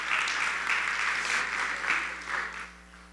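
Applause from women at a church meeting, a dense patter of clapping that holds steady and then fades out over a few seconds, heard at moderate volume with a low steady hum beneath.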